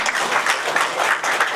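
An audience applauds steadily, a dense and even wash of many hands clapping at close range with no talk over it.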